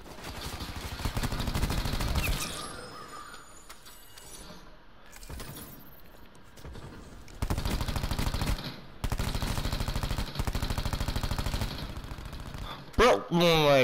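Rapid automatic gunfire from a Call of Duty Black Ops 4 match, dense bursts in the opening seconds and again from about eight to thirteen seconds, with a quieter stretch between and excited voices talking over the shooting.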